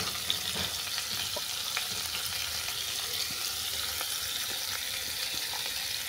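Turnip and fish fry in a pan with a steady, dense sizzle that crackles continuously throughout, close and unbroken.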